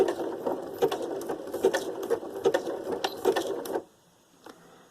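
A sewing machine stitches decorative patterns on paper tags and ephemera for a junk journal, a close, rhythmic mechanical chatter with regular ticking pulses for nearly four seconds before stopping, leaving a faint near-silence.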